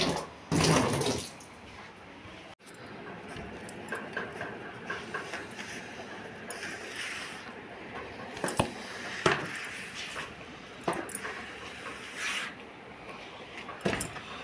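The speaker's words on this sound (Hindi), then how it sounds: "मैं यहाँ पानी डाल के साफ करती हूँ" Water poured and splashed across an outdoor floor for washing, with a strong gush at the start and then steady sloshing and scrubbing-like wet sounds, fairly close and with no talk.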